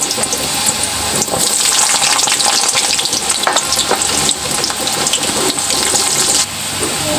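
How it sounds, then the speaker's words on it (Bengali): Loud, close crackling and sizzling of potatoes frying in hot oil, with dense bubbling spatter and occasional stirring clatter, continuous and without speech. "তেলটা গরম হয়ে গেছে আমি আলুটা ভেজে নেবো লাল করে ভেজে"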